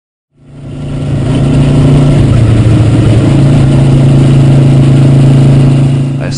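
A touring motorcycle rides north through Scania, its engine starting from silence and then holding a loud, steady drone with a brief dip in pitch partway before it settles into a continuous close-up hum.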